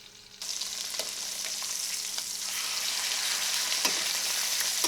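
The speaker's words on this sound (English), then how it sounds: "Now we're going to get our pork chops in." Pork chops laid into hot butter in a pan burst into a loud, close, steady sizzle that keeps building, with a few faint clinks over the frying.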